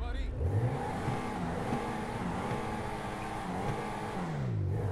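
Declasse Rhapsody, a small car modelled on the AMC Pacer, revs its engine in the game GTA Online, with rising and falling pitch sweeps sustained throughout at moderate level.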